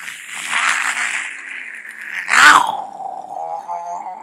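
A man mimics snoring with raspy, gargling throat noises: a drawn-out rattle, then a louder, harsher snort, fading into a lower drone.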